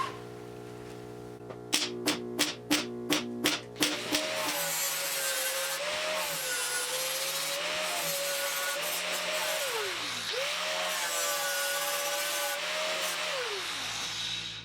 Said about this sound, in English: so I'm gonna weld here and over there, and I'm gonna start grinding.